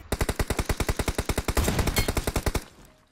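Rapid automatic gunfire from a PUBG Mobile match: about two dozen loud, evenly spaced shots in a fast steady rhythm, thickening into a dense burst midway before stopping abruptly, with no talking.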